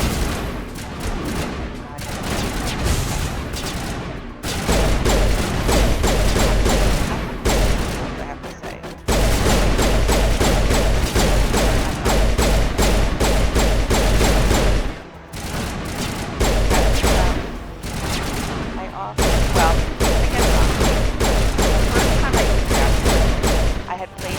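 Sustained gunfire from the video game Mass Effect, heavy bursts of rapid shots and booming impacts in long stretches broken by brief pauses, loud and close, with a voice talking intermittently.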